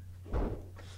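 A door bangs shut in an adjoining room, one muffled, heavy thud rising briefly over a steady low hum.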